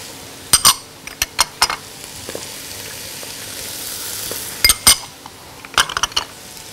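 Lamb shank with spices and salt is stirred in a metal pot. Spoon scrapes and clinks come in short clustered bursts, near and distinct, with a soft sizzle underneath.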